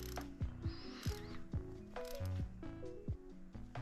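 Rapid ratchet clicks as a 1/4 inch ratchet drives a T25 Torx bit during a hybrid turbo install on a GLI, repeated short pawl ratcheting strokes in an even rhythm, close and crisp, with no talking.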